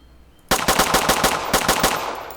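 Player's gun in the video game Road to Vostok firing a rapid burst of about a dozen sharp, loud shots in quick succession after a brief quiet start, with no talking.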